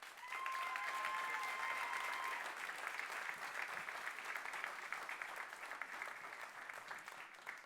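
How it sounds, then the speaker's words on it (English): A theatre crowd at the 2022 OMAs award show applauds the musicians with dense, continuous clapping. The sound is full and sustained for several seconds, easing slightly toward the end, with a faint tone briefly audible at the start. "A round of applause to you guys."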